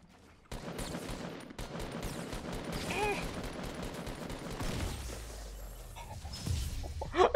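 Gunfire in the battle royale game Fortnite, a rapid series of sharp shots and impacts in bursts, with crackling debris and a final louder hit at the end.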